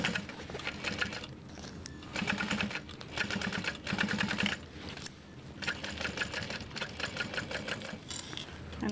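A sewing machine runs nearly without pause as it stitches binding around a Wade Backpack, making a close, busy mechanical whir that pulses slightly.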